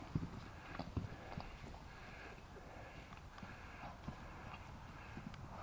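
A horse clip-clopping near a barn, irregular hoof steps on a hard floor close by, with soft snorts and shuffling between steps.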